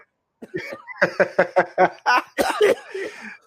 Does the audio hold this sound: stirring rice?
no